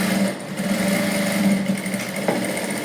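A sewing machine runs a pressing stitch on a princess-cut blouse with a continuous, even mechanical hum and fine rapid needle chatter that carries through the whole stretch.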